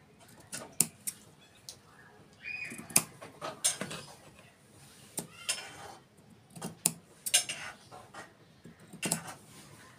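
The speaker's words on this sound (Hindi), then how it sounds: "अब ये हम इसकी कटिंग करेंगे" Fabric being cut for a homemade shopping bag, a series of crisp, close scissor snips at an irregular pace, quiet overall with small handling clicks between cuts.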